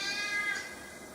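A cat gives a single drawn-out meow, fairly close and clear against a quiet background.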